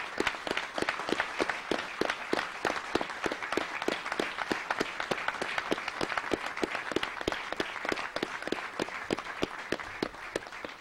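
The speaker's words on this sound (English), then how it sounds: "everybody should applaud you for it" An audience applauds the Deep Impact comet mission team during a post-impact briefing, a steady stream of dense, even clapping that holds for about eleven seconds with no voices over it.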